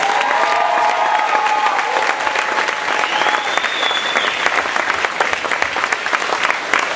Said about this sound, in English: let's give another round of applause to all of our contestants